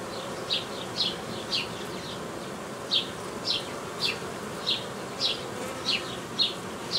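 Honey bees at a hive nucleus in a Romanian apiary give a steady droning buzz, with higher whining passes repeating about every half second as bees fly close by, moderately loud, no voices.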